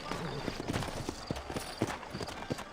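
Horse hooves clip-clop in Red Dead Redemption, a steady run of light, evenly spaced thuds at moderate loudness under ongoing spoken dialogue.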